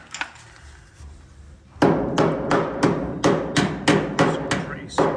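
Rusty, soft sheet-metal panel on a Porsche 356 Speedster under restoration is struck by a hammer about nine times in a steady rhythm, each blow a loud, dull close thud after a quieter lead-in.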